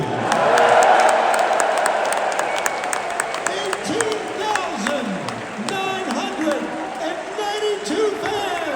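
A huge pro wrestling arena crowd at the O2 in London cheers, claps and whoops in a swelling roar that thins into scattered applause, with voices shouting through the noise.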